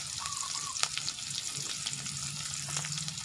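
Garlic and shallots sizzle in a pan as they are stir-fried, a soft steady crackle with occasional utensil ticks, close and fairly quiet throughout.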